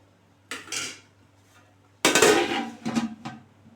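A lid set down on a biryani pot in a home kitchen, with a soft metallic touch, then a louder clatter of metal that settles with a few rattles.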